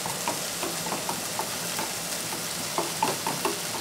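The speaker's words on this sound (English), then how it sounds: "give it a stir" Food sizzles steadily in a pan as a utensil stirs it, producing a constant close frying hiss with soft, irregular scraping taps throughout and no speech.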